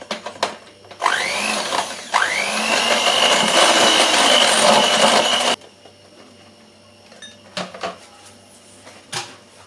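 An electric hand mixer whirs loudly through cake batter for a layered mirror-glaze dessert, its motor pitch rising as it spins up. It runs steadily for several seconds, then cuts off, leaving a few faint knocks and clinks.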